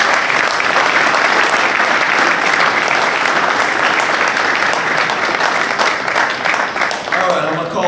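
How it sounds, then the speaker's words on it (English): Loud, sustained applause from a large banquet crowd honoring the senior class at an Army football awards dinner, dense clapping throughout with voices and cheers mixed in, easing slightly near the end. "let's have one more round of applause for the senior class"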